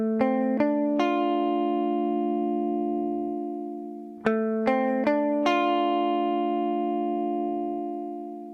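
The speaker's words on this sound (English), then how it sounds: "it really brought out the harmonics in that guitar, fixed the mud, and made it sound a lot better" Electric guitar processed through a Mixland Tilt equalizer, two groups of three plucked notes ringing out with long, clear harmonic sustain, close and alone with a quiet pause between the groups.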